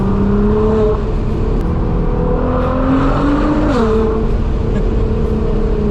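A very loud Nissan 370Z engine drones and revs, its pitch rising and dipping through gear changes, heard close up from inside or beside the car with constant heavy rumble.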